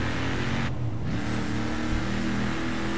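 A car in Forza Horizon 3 accelerating to overtake other vehicles: a steady, loud engine drone that swells as it speeds up, with a brief whoosh of wind partway through and no voices.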